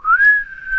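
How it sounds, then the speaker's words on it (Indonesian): A single short whistled note from a person, rising slightly then holding steady, clear and close with nothing else behind it. "Siul lagi."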